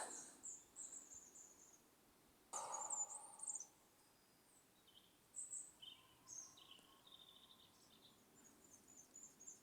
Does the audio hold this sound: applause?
no